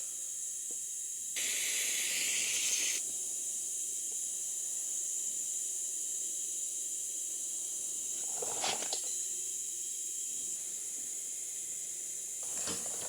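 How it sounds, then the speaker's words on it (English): Aerosol brake cleaner hissing onto dirt bike parts in a few close bursts: one long spray, then shorter ones, over a steady background hum. "Hit it with some brake cleaner."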